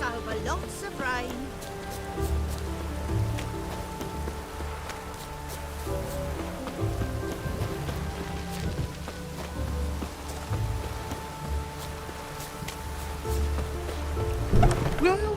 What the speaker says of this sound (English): Lots of fuss over lots of rain.